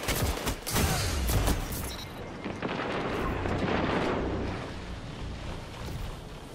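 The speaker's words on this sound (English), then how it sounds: "Someone's got a rocket launcher." Rocket launcher fire and gunfire in a Destiny 2 Crucible match, heard as loud, dense booming blasts in the first two seconds that fade into a sustained rumbling roar.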